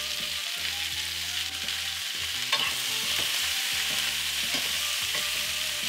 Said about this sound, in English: Onto the pan, peppers, onions, season a touch, salt and pepper.